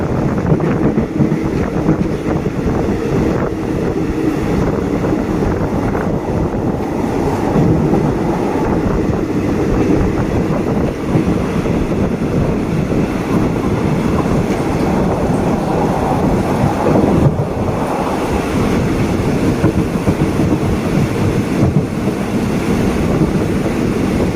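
A train running along the Ratchaburi railway line in Thailand, heard as a loud, continuous rumble and rattle of moving carriages with heavy wind buffeting throughout, no talking.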